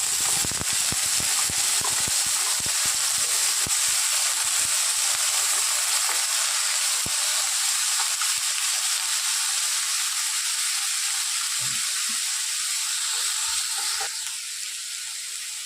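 Chopped potatoes dropped into hot spiced oil in a pan for chire poha give a steady loud sizzle and hiss, with some clattering at first, continuing alone without talk.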